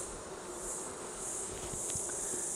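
Steady, dense buzzing of many honey bees in a hive fitted with flow frames, continuous and close with a constant drone throughout.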